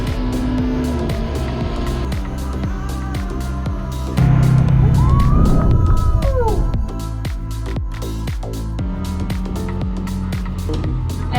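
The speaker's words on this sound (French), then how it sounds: "on va essayer d'accélérer un petit peu, mais le jet car est encore en rodage" A Jetcar watercraft, a car-styled personal jet boat still being broken in, accelerating in Montreal's Old Port: a steady loud engine drone with rising and falling harmonic sweeps, swelling louder for a couple of seconds mid-way before settling back.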